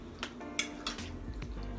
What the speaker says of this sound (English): I'm gonna stir this up too.